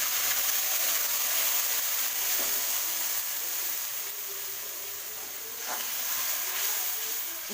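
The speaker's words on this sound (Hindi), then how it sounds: "इस पेस्ट को अच्छे से भून लेंगे।" Ginger, garlic, onion and tomato paste fries in a pan over high flame, giving a steady soft sizzle and hiss with faint stirring clinks throughout.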